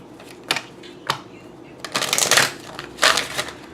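A tarot card deck is shuffled in quick bursts of riffling and flicking, loud and close, with short pauses between the rustling passes.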